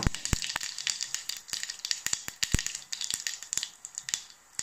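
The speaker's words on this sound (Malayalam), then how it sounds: "കടുക് ചേർത്ത് കൊടുക്കുകയാണ്." Mustard seeds crackle in hot oil as the tempering for a prawn, drumstick and tomato curry, a rapid, irregular burst of sharp close pops and snaps spread across the whole stretch, with no talking.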